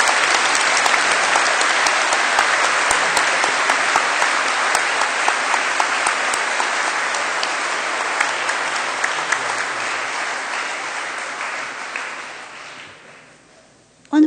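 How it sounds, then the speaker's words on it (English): A ceremony audience at the Ramon Magsaysay Awards applauds honorees in a long, even burst of clapping that holds steady, then thins and dies away near the end. "please let us give a round of applause to these men and women who have laid down their lives for others"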